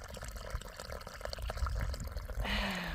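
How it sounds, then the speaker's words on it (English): Water from a hose splashing and trickling onto soil while watering small young trees in a backyard, a continuous uneven wash of liquid with a brighter gush near the end. "I'm currently watering my little trees."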